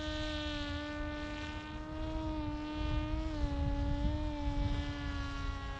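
Electric motor of an FPV wing on landing approach gives a steady, buzzing whine whose pitch dips and wavers slightly as the throttle changes, continuous and fairly close, with no talking.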